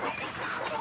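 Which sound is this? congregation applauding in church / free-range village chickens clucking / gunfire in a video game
free-range village chickens clucking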